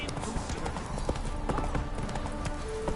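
Roach, the horse in The Witcher 3: Wild Hunt, gallops with fast, dense hoofbeats that stay close and steady under a busy game soundscape.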